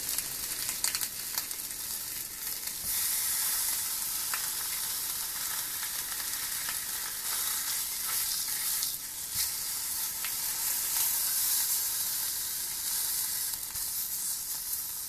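Beef short ribs searing in a hot skillet produce a loud, bright, continuous sizzle close by, with occasional shifts and scrapes as the meat is moved.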